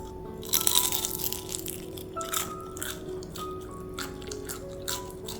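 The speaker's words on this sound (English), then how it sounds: "Listen to that crunch." Crisp crunching bites of air-fried frozen spring rolls, a few sharp crackles spaced over several seconds, close up and moderately loud against a steady background hum.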